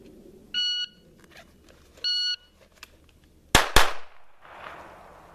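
A handgun is drawn from a hip pack holster and fired. Two short electronic timer beeps come first, then two loud, sharp gunshots in very quick succession, followed by a brief ringing tail.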